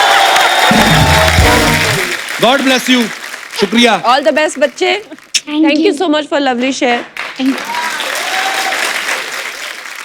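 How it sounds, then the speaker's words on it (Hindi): A studio audience at The Kapil Sharma Show claps loudly in a dense burst, then the clapping fades as people speak warmly over a lighter spatter of applause, which swells again near the end. "ठोको ताली, ठोको ताली"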